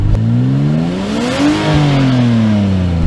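A Lexus SC300 with a 1JZ inline-six engine and stock exhaust and intake revs up, then settles back down. The engine note is loud and close, rising in one smooth sweep and falling again.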